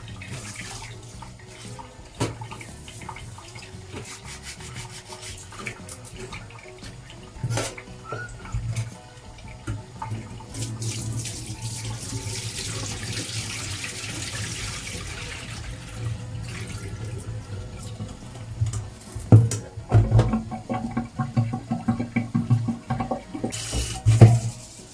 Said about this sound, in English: Now for the rice, if you wash it, you have to make sure that you drain all the water out.